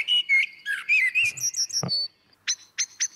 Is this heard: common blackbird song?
yes